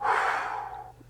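A person exhales steadily through the mouth while using a metered-dose inhaler, a single soft breathy rush that is strongest at the start and slowly fades over about a second, close and alone.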